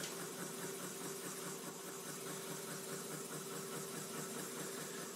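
A machine bores beryllium valve seats in a Porsche 996 cylinder head, giving a faint, steady mechanical whir with a constant tone and light vibration, continuous and without talk.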